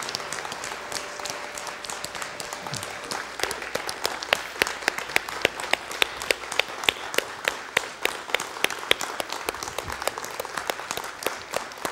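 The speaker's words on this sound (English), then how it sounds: "let's give God a great hand clapping praise" Church congregation clapping hands in praise during a worship service, a sharp, rhythmic beat of many hands that starts looser and settles into steady, even claps, moderately close and with no talking over it.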